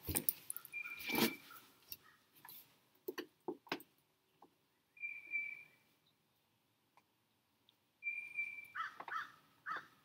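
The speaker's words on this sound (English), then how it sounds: "I don't know what kind of bird that was." A wild bird calls outdoors with a few clear, high whistled notes spread across several seconds, separated by quiet gaps and scattered small knocks, with no talking.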